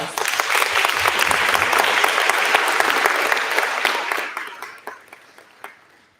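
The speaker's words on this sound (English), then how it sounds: "Let's give them one more round of applause." An audience at a fifth grade graduation ceremony for an ACE program gives a full round of applause that holds steady for about four seconds, then thins to a few scattered claps and dies away.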